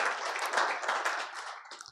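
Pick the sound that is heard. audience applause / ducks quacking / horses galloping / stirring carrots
audience applause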